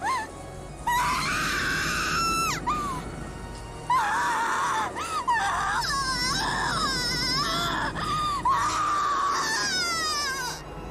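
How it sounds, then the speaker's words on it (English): In the Umineko visual novel game, a female character screams and wails in repeated long, shrill, anguished bursts, loud and close, with short gasping breaks between them. "Erica crouched, screaming and clutching at her head."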